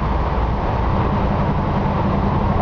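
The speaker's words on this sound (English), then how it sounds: "Just got a nice muscle car sound to it. This is what a Camaro should sound like." A 1972 Camaro with a V8, long tube headers and a lopey cam idles nearby, giving a steady, loud, deep rumble that holds even with no talking.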